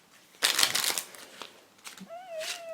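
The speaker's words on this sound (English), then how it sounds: "when I do that wiffle shuffle." A worn, soft vintage Heineken playing card deck is riffle shuffled close up, giving a quick burst of fluttering card clicks followed by lighter taps and rustles as the cards are squared.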